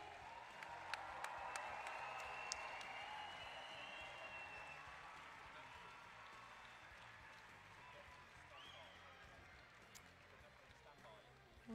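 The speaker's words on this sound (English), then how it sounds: "let's give all of our world-class gymnasts a huge Liverpool cheer" An arena crowd in Liverpool cheers and applauds gymnasts at the 2022 World Gymnastics Championships, a sustained wash of clapping and shouting that slowly fades, with scattered sharper claps and whistles.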